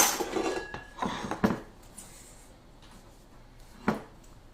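A utensil chops icing sugar into a cake mixture in a bowl, giving a few scraping taps and clinks against the bowl close by, with one sharper knock after a quiet stretch.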